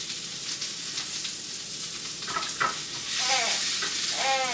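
Homemade flour and baking powder fritter-pancakes frying in a pan, a steady close sizzle of hot oil with a few scraping stirs, the frying growing louder and crackling more toward the end.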